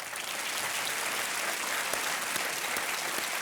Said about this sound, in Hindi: अनिल कपूर जी को आप तालियों के साथ इनका अभिनंदन करें।